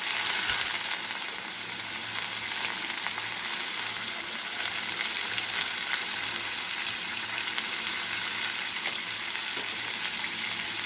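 Steady, continuous sizzling of green plantain frying in hot oil with turmeric and asafoetida, close by with a bright crackle throughout and no talking.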